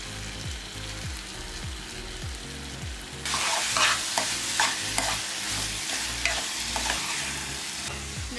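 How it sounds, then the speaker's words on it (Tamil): Puffed rice (avil) pongal sizzles in a pan after ghee is added and is stirred with steady rhythmic scraping strokes, and the frying hiss grows louder partway through. "அதனால் கொஞ்சம் நெய் ஊற்றிடும்."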